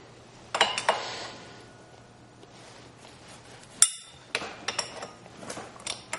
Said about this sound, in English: We want to put the lock nut back on nice and tight, and we're going to hold it again with the 2 wrenches.